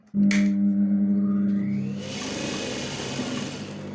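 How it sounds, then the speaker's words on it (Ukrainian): Sewing machine running steadily as it stitches a seam through silk fabric up to a marked line, a loud continuous mechanical whir close by with no talking. "урівнюючи насічки та прокладаємо строчку до наміченої лінії"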